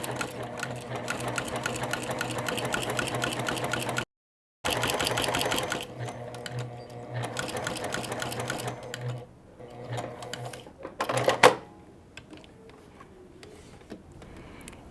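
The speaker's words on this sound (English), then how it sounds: "I'm keeping my top stitching again, all on the same side." A sewing machine top stitches a fabric strap in rapid, steady bursts of loud mechanical whirring, with a brief stop midway and a few quieter pauses and clicks near the end.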